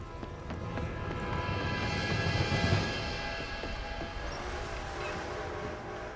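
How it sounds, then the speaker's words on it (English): A train approaches in Red Dead Redemption 2, a broad rumbling roar that swells toward the middle and then holds steady with a faint whistle-like tone on top, with no talk over it. "Train!"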